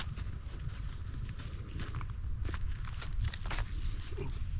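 Horse hooves clip-clop in a steady walking rhythm nearby, crisp knocks over a low background rumble.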